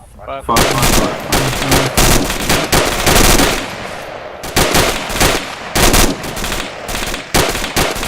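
Dense rapid bursts of automatic rifle and machine-gun fire from a squad opening up on infantry in a northwest tree line, loud and close, with sustained volleys broken by brief pauses and shouted commands beneath.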